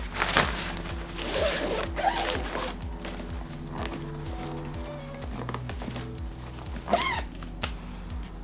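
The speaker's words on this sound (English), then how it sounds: "Okay, I'm gonna zip that closed." A suitcase being zipped shut while packing for a skate trip, with several short rasping zipper pulls and handling rustles up close, mixed with quieter shuffling.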